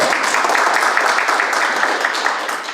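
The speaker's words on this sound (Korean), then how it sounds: "큰 박수로 맞아주시기 바랍니다." An audience at a humanities lecture applauding to welcome a guest speaker, a dense, even wash of many hands clapping at once, sustained and fairly loud without a break.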